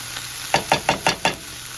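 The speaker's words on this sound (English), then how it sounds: "saute till everything is tender" Vegetables sautéing in a pan, a quiet sizzle under five evenly spaced stirring scrapes in quick succession, close by and with no talking.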